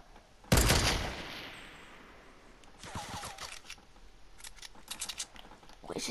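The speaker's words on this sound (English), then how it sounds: "Oh, he's getting shot at." Gunfire in the battle game Fortnite: a sharp, loud shot burst near the start, then a dense patter of repeated rapid shots and impacts, more distant and quieter, continuing to the end.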